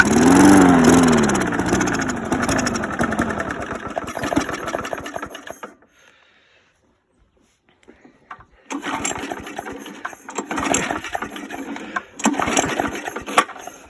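Vintage 35-year-old lawn mower with a clogged carburetor, choked, rattling and sputtering loudly before cutting out to near silence, then catching again with rough, uneven bursts of running.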